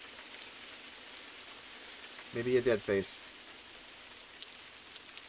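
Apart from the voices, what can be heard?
rain in a video game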